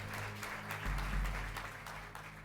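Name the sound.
applause in a courtroom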